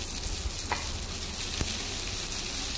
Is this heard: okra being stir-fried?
yes